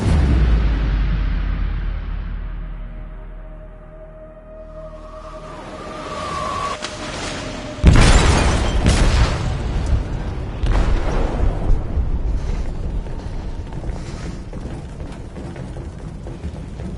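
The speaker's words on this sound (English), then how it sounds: "They detonated an explosive in the hold." A loud explosion goes off in a ship's hold in Detroit: Become Human, a sudden heavy boom followed by a long rumbling, crackling roar of debris and rolling aftermath.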